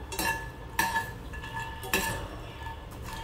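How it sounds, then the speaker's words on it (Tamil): Lotus seeds stirred in a pan, with a spoon scraping and clinking against the metal in a few distinct strokes over a faint background, close and alone without speech. "இத வந்து கருகாத மாதிரி நல்லா நீங்க கிண்டி விட்டுட்டே இருக்கணும்"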